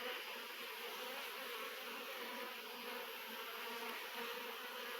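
Italian honeybees hum in a dense, even buzz around a hive during a honey harvest in the sertão, faint and continuous with no voices.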